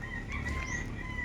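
A chicken roaming outdoors gives a brief cluck over a low, steady background hum. The sound is short and fairly quiet.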